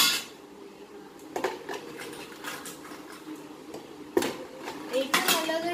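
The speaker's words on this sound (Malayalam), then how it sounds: "നമ്മൾ ഈ ഐസൊക്കെ ഒന്ന് ഉടച്ചെടുത്തിട്ടുണ്ട്. ഇപ്പൊ നമുക്ക് ഇന്നത്തോട്ട് ഇട്ട് കൊടുക്കാം." Crushed ice going into a small homemade cooler, with a few sharp clattering bursts over a quiet background.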